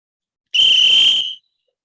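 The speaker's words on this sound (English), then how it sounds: "So, let's see you blow the whistle, Shira." A single sharp, shrill blast on a whistle, loud and close, held for under a second with a steady pitch before cutting off, surrounded by silence.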